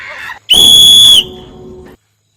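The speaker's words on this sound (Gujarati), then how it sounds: "મેં તો ખાલી સિસોટી મારી છે." A person gives a single loud, sharp whistle lasting under a second, held at one steady pitch and close to the listener, with brief muffled voice-like sounds just before and after it.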